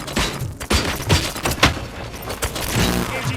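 Rapid gunfire in the video game RoboCop: Rogue City, a dense fusillade of sharp close shots with booming thuds layered under mechanical clatter, firing continuously for several seconds.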